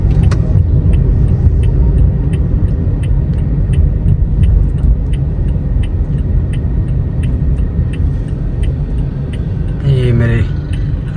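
A car cruising along main Bedian Road gives a loud, constant road-and-engine drone, with a faint regular ticking throughout and a short rising whine near the end.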